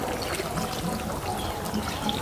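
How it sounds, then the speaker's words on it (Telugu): Half a glass of water is poured into a simmering nalli gosht curry for Hyderabad-style biryani, giving a soft, steady splashing pour that lasts the whole moment, with no talking. "హాఫ్ గ్లాసు నీళ్ళు కూడా వేసుకుందాం"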